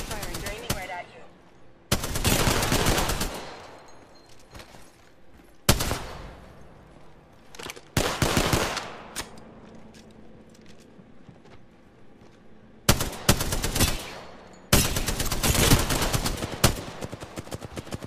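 Automatic weapons fire in loud, sustained bursts during an Apex Legends match, several separate sprays of rapid shots with quieter gaps between them, while players talk intermittently.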